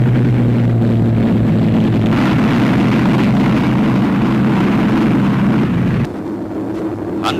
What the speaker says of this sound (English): The throbbing drone of bombers already in the air, the rising crescendo of others mounting to join them